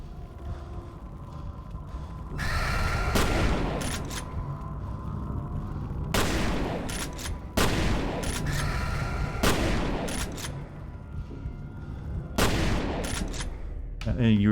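Gunfire in the FEAR video game: repeated heavy bursts of automatic shooting and loud booming impacts, each volley lasting about a second with a brief lull between, over a low steady rumble.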